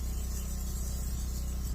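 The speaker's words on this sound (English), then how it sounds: "I'll spray the pan a little bit." Olive oil spray hissing onto a pan in a small bus kitchen, a short continuous close-up spritz held steady for under two seconds.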